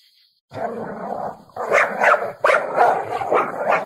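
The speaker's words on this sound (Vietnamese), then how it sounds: "Trong bao tiếng chó ăn ẳng sủa đầy dữ dằn." Several dogs yelp and bark fiercely in bursts, muffled as if trapped inside a sack, loud and close with short gaps between outbursts.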